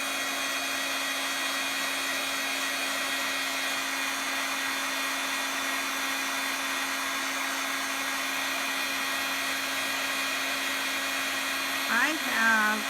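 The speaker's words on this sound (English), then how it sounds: "to make the magic happen, you have to use your embossing tool" A heat embossing tool blows hot air in a steady, close, even whir that runs unbroken for the whole stretch, with a brief shift in tone near the very end.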